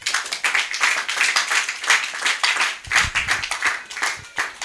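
A church congregation claps during a Bible teaching, fast rhythmic hand clapping from many people that pulses steadily from start to finish, with no talk over it.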